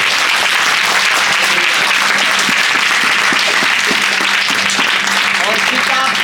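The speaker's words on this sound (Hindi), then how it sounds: "आप अपने लिए ताली बजा के स्वागत करें।" A church congregation applauds steadily at the opening of the Revival Church head office in Jammu, a dense, even wash of clapping across the whole stretch with a voice speaking over it.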